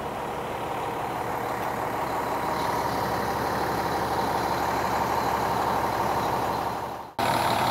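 The diesel engine of a 2007 American Eagle 45E Special Edition motorhome, rated 500 hp, runs at a steady idle with a constant deep rumble and hiss, close and unbroken apart from a brief dip near the end.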